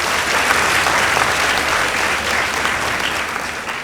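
The audience at a school debate between St Gabriel's Lanet Boys High School and Njoro Girls claps for the Lanet Boys team, a dense, loud burst of applause that tapers off slightly toward the end.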